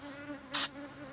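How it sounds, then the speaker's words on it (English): Asian hornet buzzes in a brief, loud burst close by, a short high whine lasting a fraction of a second over a low steady hum. "So there's a couple of hornets from different nests here."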